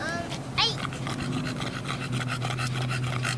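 A bulldog pants loudly and rapidly right after a walk, steady rhythmic breaths close up, with a voice briefly speaking over it.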